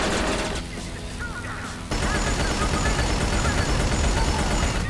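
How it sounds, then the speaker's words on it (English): A plane in the SkyDrift racing game fires its guns in rapid bursts, a dense crackling barrage that drops back briefly and then resumes louder and nonstop over game sound. "Fire all your bullets now"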